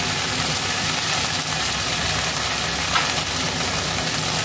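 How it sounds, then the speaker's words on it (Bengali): Ridge gourd, potato, drumstick and poppy seeds sauté in a pan with a continuous soft sizzle and faint stirring, steady and close, with a small scrape near the end. "ঝিঙে আলু ডাঁটা পোস্ত ভালো করে কষে নেব।"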